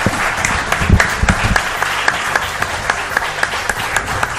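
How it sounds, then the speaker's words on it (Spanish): A studio audience breaks into steady applause at a Spanish-language paranormal talk show, loud and sustained throughout with no voices on top. "Un aplauso os pido para ellos."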